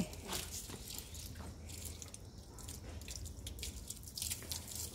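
Faint water drips and splashes in irregular patters against a quiet outdoor background, with no voices.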